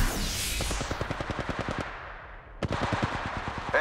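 Automatic gunfire in the mobile shooter Apex Legends Mobile, two rapid bursts of evenly spaced shots, the first running nearly two seconds, then a brief pause before a second fast volley, loud and close.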